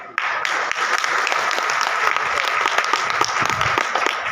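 A crowd breaks into applause at a Hindi patriotic poetry recital, starting abruptly and settling into steady, dense clapping with some individual claps standing out close by.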